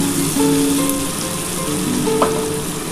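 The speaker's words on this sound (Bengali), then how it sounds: "একটু ভাজা ভাজা করে নিতে হবে যেহেতু পেঁয়াজ দিয়েছি" Potatoes and onions fry in oil for a shrimp and poppy-seed dish, giving a loud, continuous close-up sizzle with light stirring scrapes and no speech.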